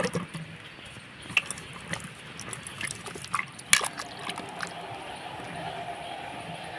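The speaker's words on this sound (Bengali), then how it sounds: "এখন আমি জল দিয়ে ভালো করে পরিষ্কার করে ধুয়ে নেব" Lemons for an oil-free lemon pickle being washed in water: irregular splashes, drips and knocks of fruit against a bowl, with a voice speaking intermittently over them.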